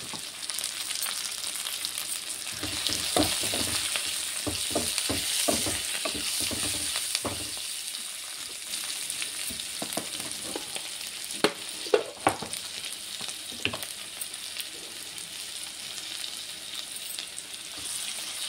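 Curry sizzles and fries steadily in a pan, with repeated stirring scrapes and clinks of the spoon over continuous crackling, close and fairly quiet.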